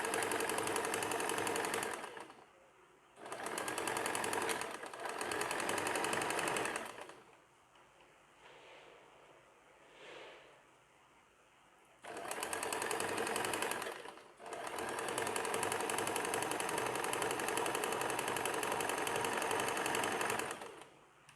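A sewing machine stitches a seam on an extra-large night pajama in several long, steady runs with short pauses between them, loud and close, with a quieter stretch of lighter whirring in the middle.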